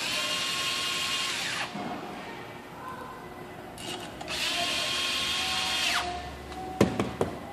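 A power drill drives screws into a car stereo fitting bracket for a Nissan, in two whirring bursts separated by a pause, followed by a few sharp clicks of handling, close by, with no talk.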